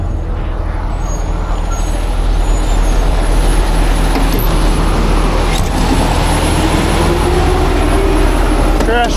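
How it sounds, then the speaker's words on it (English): A trash truck rumbles past near a semi-truck recovery on loose gravel, a loud continuous low engine drone with a hiss of air brakes partway through, steady and close throughout. "Trash truck's gone."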